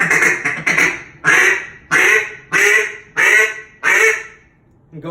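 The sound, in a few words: duck call feed call imitating ducks at contest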